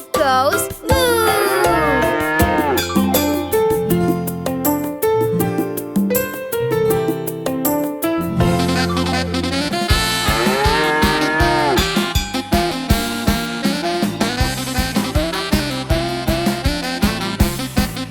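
A cow's long, sliding moo rises out of a bouncy children's cartoon song about a cow with a big golden bell, with steady backing music and rhythmic percussion continuing throughout.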